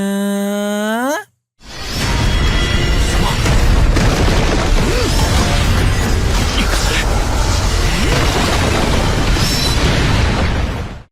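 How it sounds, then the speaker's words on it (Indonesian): A huge, sustained explosion from two high-level spirit techniques clashing in the animated series Soul Land 2 roars with a heavy booming rumble for several seconds, following a short tonal sweep and a moment of silence. "ledakan dahsyat karena benturan dua teknik roh tingkat tinggi"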